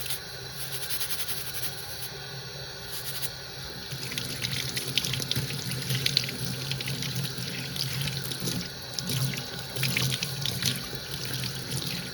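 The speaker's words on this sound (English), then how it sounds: "some hot water, and a nylon brush." Hot water runs steadily from a tap into a sink while a cast resin sculpture is scrubbed with a nylon brush and dish soap, a continuous splashing rush with faint clatters, close and moderately loud.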